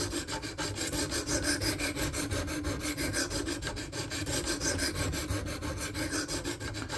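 A knife blade is drawn steadily across a sharpening stone to raise a burr, matching an angle already set on a KME. The scraping is close, continuous and even, with rhythmic back-and-forth strokes and no talk.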